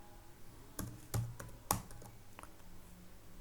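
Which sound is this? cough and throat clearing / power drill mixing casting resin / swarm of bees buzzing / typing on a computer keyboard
typing on a computer keyboard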